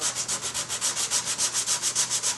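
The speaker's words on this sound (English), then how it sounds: "Try and keep your sandpaper clean. Work that area down." Sandpaper is rubbed back and forth over a flexible plastic car panel during paint prep, a close, loud rasping in a quick even rhythm of about six strokes per second.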